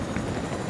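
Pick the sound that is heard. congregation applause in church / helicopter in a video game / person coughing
helicopter in a video game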